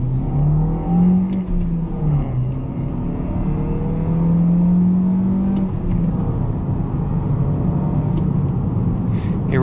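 Manual Toyota Corolla Hatchback accelerating on a highway, engine revs climbing and dropping through gear changes under steady road and wind noise from inside the cabin.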